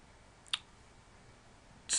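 A single crisp mouse click selects a state link on a census population finder web page, a brief sharp tick in a quiet room, with another click-like burst just at the end.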